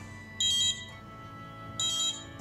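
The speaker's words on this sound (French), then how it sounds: "là c'est une sonnerie à 3 tons" Two bursts of a high, three-tone electronic alarm beep from a temperature, humidity and vibration sensor pod, each about a third of a second, separated by a pause over a low hum.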